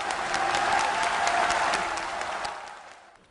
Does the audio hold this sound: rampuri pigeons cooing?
no